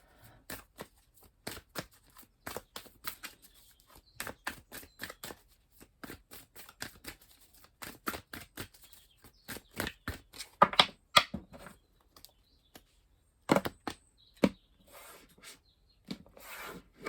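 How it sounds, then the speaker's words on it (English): Tarot cards are cut and shuffled by hand, giving repeated crisp riffling bursts and soft slaps with short pauses between them. The sound is close and fairly quiet, with no talking. "I will be cutting the deck for the majority of the cards"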